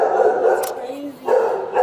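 A dog barks and whimpers in a house during a sheriff's visit, short yelps mixed with loud overlapping talk from people nearby.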